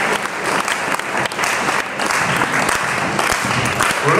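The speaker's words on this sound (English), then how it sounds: "one more big applause for our finalists." An audience at a Jack'n'Jill lindy hop dance final in Kraków claps for the finalists, dense continuous applause with some crowd noise, fairly loud and steady from start to end.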